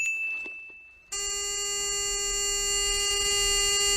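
A film scene's electronic alarm gives a single faint tone, then cuts into a loud, steady, piercing beep that holds without a break.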